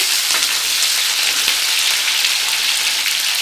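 Chopped onion sizzles in a hot pan on high heat at the start of a cabbage stir fry, a dense, steady crackling hiss that stays loud and close throughout with no voices.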